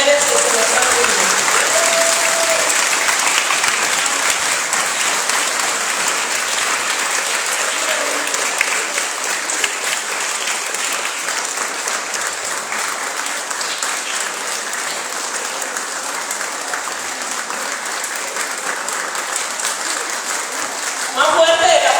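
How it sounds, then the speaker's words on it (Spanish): Strong, sustained applause from an audience at a gathering of Afro-Latin American women in Livingston, Guatemala, dense clapping filling the room steadily for the whole stretch, with a voice briefly audible near the start and end. "vamos a dar un minuto de aplauso fuerte para esas dos grandes mujeres que se nos han unido"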